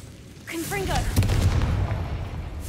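A Confringo blasting spell bursts in Hogwarts Legacy, a deep booming explosion that swells and rumbles for about two seconds, with someone talking over the start of it.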